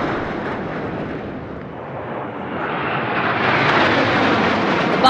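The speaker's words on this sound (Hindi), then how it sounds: "Buzz formation going past." A military formation of MiG-29 and Sukhoi jets flies past at a Republic Day flypast, a loud, broad jet roar that dips briefly and then swells again as the aircraft pass overhead.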